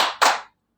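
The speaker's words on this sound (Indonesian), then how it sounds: "Ibu bilang siang, tepuk 2 kali." Two sharp hand claps from a class in quick succession, the second slightly louder, close and clear with no talk over them, then silence.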